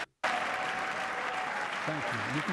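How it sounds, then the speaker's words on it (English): Sustained clapping from members of Congress fills the chamber at the 2023 State of the Union, broken by a brief silent gap near the start, with a voice speaking over the applause toward the end. "Well, most Republicans are clapping."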